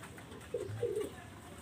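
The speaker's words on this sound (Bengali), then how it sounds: "এটা হলো কামাগার কবুতর লাল চোখের কবুতর" A red-eyed Kamagar pigeon gives two soft, low coos, close by and brief against a quiet background.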